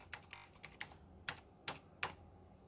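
Keys on a computer keyboard are pressed in scattered single taps, close and quiet, with uneven gaps between strokes over a soft background hiss and no talking.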